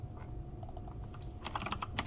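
Quick keystrokes on a computer keyboard, a short burst of close, clicky taps that speeds up toward the end, with no talking.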